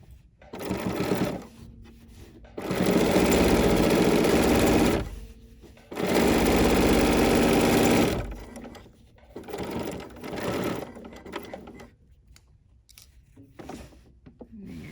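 A sewing machine stitches through quilting fabric in two loud sustained runs of a few seconds each, with brief pauses and quieter handling sounds between and after them.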